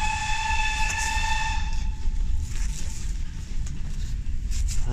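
Subway train running as it approaches its terminating stop at Broadway, a steady loud rumble with a sustained high whine that fades after about two seconds, followed by continuous rolling noise and faint clatter, with no talk.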